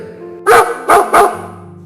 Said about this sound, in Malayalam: പുറത്തൊരു പട്ടിയുടെ ഉറക്കെയുള്ള കുര മിലി കേട്ടത്